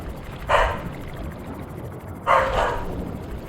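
A dog barks twice, loud and close, with a pause of nearly two seconds between the barks, over a low steady background hum.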